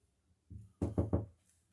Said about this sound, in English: let's knock on wood 3 times